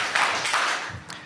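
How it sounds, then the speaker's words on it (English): An audience at a finance conference claps in answer to a call, with a few sharp hand claps close together, fairly loud, and no talking during them. "clap 3 times."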